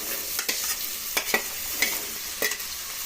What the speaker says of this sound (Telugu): అది వేగాక సన్నగా కట్ చేసి పెట్టుకున్న బీరకాయ ముక్కలు వేస్తున్నారు.